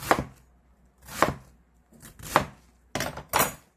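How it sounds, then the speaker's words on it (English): Knife chopping through cabbage on a cutting board for tteokbokki, five or six sharp, close thuds spaced at uneven intervals with clean silence between them. "Let's cut cabbage like this."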